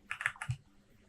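Computer keyboard keys pressed in a quick cluster of three or four sharp clicks, as in a Control V paste while working in Clo3d on a kaftan design, close and fairly quiet, then a soft thump and near silence.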